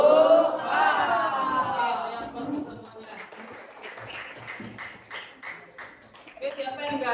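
A school class stands for a tepuk buha clapping chant led by the teacher, with voices chanting together over bursts of rhythmic hand claps that grow sparser and then pick up again near the end.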